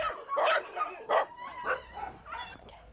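Dogs bark in quick, loud yaps at a large animal shelter kennel in Thailand, several barks overlapping with higher yips and a whimper, close by and without talk.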